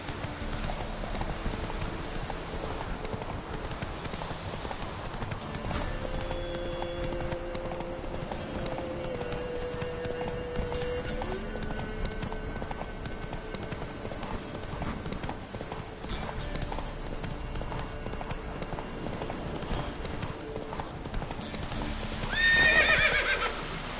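Rhythmic hoofbeats of a horse galloping in the video game Witcher 3, steady clip-clop under game ambience, with a whinny near the end.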